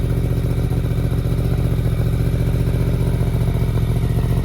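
A Yamaha R1 motorcycle engine idles loudly and close by while warming up, a steady rumbling, rapid low chug with slight clattering, holding an even pace throughout.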